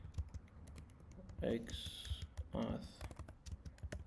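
Fingers type quickly on a computer keyboard during a coding session, a close, brisk patter of clicks that keeps going under a man's intermittent speech.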